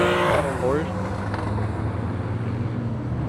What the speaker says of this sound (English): JDM lined up leaving too. NSX, R34, R33.